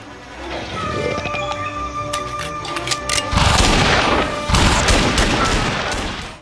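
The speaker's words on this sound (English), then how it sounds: "the gunshots sound cool, and the dinosaurs sound pretty good as well too" Rapid bursts of gunfire crack and rattle loudly in quick succession, with booming impacts and a dense, chaotic mix of synthetic combat sounds from the Wii light gun game Dino Strike.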